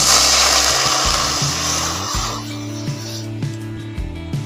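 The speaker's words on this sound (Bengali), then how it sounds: "পাঁচশো গ্রাম দুধ দিয়ে দিচ্ছি" Five hundred grams of cow's milk is poured into a karai, making a steady rushing pour for about two seconds that then fades, with background music throughout.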